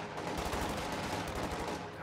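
Anti-tank gun and machine gun fire from a strategy war game, a dense, continuous crackle of rapid shots with heavier thuds mixed in, loud and close throughout the short burst.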